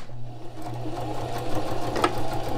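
A sewing machine runs steadily, stitching a repair on denim jeans near a weak pocket seam, with a constant close mechanical hum and whir throughout and no talk.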